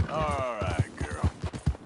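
A mare's hooves clip-clop in a quick, even trot in Red Dead Redemption 2, each beat distinct and close, while a voice calls out briefly at the start.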